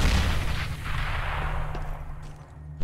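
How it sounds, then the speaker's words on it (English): A thrown grenade detonates in Counter-Strike: Global Offensive, a loud booming blast that rumbles and decays over a few seconds, with no voices. "Throwing a grenade."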